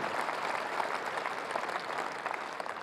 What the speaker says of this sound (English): I wonder if we can give them a big round of applause for their hard work as well